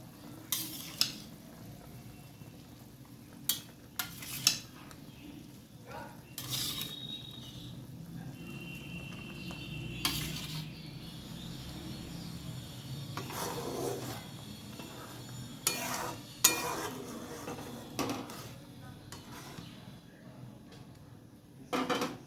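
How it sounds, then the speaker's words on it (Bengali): Whole prawns go one by one into a boiling mustard-poppy seed curry in a pan, each drop bringing a brief sizzle and clink over a steady low bubbling simmer, with occasional utensil knocks. "ঝোলটা দেখো একদম ফুটে গেছে। এবার আমি এক এক করে চিংড়ি মাছগুলো দিয়ে দেবো।"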